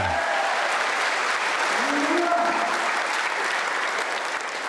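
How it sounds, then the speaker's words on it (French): A congregation at a Philippine church service claps together in a dense, sustained round of applause that stays steady and fairly close throughout, with a few raised voices briefly audible within the crowd. "Tous ensemble, applaudissons tous pour la gloire du Seigneur."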